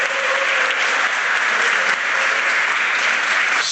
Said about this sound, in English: Big round of applause for all of you guys.